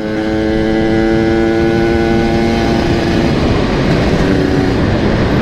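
A motorcycle fitted with a local aftermarket exhaust, low on two-stroke oil, idles and is blipped to warm up, a steady loud engine drone with rising and falling rev tones throughout, no voices.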